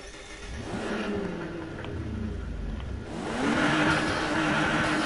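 A V6-swapped car engine in the racing game Need for Speed Heat revs and drones steadily, its pitch climbing as it accelerates toward the end, with no talk over it.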